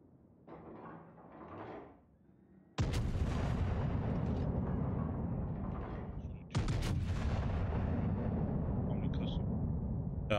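Heavy naval gun salvos boom out in World of Warships, two sharp, loud blasts a few seconds apart, each followed by a long rumbling decay, with quieter engine and ambient noise before them.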